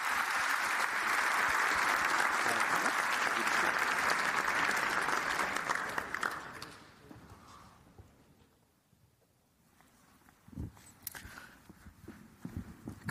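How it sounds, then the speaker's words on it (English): Conference audience in London applauding panelists at a NATO event: thick, even clapping for about six seconds, then quickly thinning out, followed by scattered knocks and shuffling in a quieter room. "I'd like to round of applause for the panelists."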